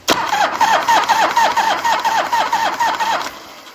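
A 1983 Harley-Davidson FLHT Shovelhead motorcycle engine cranks on the starter with a fast, regular chugging rhythm for about three seconds, close and loud, then stops without catching.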